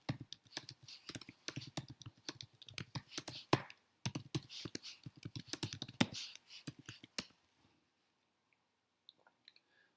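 Rapid, irregular clicking of a computer keyboard as someone types an email address and password, bursts of keystrokes for about seven seconds before falling almost silent apart from a few faint taps.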